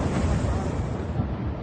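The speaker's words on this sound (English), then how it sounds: "Here is a video of one of the airstrikes earlier." An airstrike explosion in Lebanon roars as a dense, sustained rumbling blast, loud and broadband, with no voices over it.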